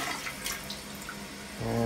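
Water trickles and rushes softly as a clogged toilet bowl refills, a faint steady wash that swells louder near the end.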